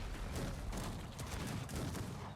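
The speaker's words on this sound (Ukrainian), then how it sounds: "Так, стріляємо гарматками" Cannon fire during a Cossacks 3 ranked real-time strategy battle, a dense rolling barrage of overlapping booms and crackling volleys that fills the whole stretch at a steady, loud level.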